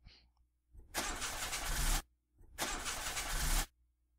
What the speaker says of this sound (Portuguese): pera aí eu vou tentar ligar o motor.